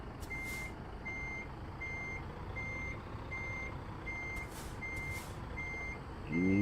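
A Kenworth T680 truck's backup beeper pulses in a steady, evenly spaced series over a low engine rumble in American Truck Simulator, moderately loud throughout.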